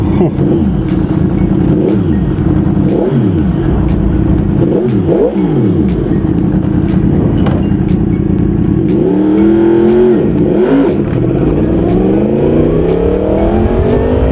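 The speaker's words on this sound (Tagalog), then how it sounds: "Sport bike for daily commuting." A Yamaha R1 sport bike on a daily commute ride roars loudly and continuously, its engine revs sweeping up and down through repeated gear changes.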